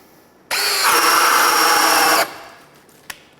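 A Ryobi cordless drill on an Edge battery, in high gear, whirs loudly for about two seconds drilling a hole, revving up and running steadily, then cuts off, followed by a faint click.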